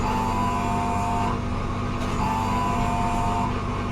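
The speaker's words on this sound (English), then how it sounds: "that noise is caused by the gearbox air compressor activating in order to top up the air pressure when needed" A race car's gearbox air compressor kicks on in a sim racing game, a steady whining mechanical hum over the engine drone, with brief shifts in tone near the middle and toward the end.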